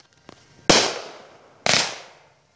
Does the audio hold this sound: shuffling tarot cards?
no